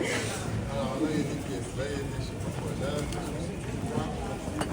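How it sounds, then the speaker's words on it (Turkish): Pigeons coo in Venice amid a steady hum of crowd chatter and outdoor ambience, the soft calls blending into the busy background at moderate distance. "Her yerde inanılmaz bir güvercin nüfus var."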